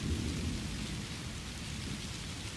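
Indiana thunderstorm with steady, dense rainfall hissing throughout and a low, continuous thunder rumble underneath, close and unbroken with no voices.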